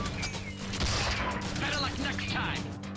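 Rapid rattling bursts of anti-fighter cannon fire in the video game Tribes: Vengeance, a dense mechanical barrage with booming impacts running throughout.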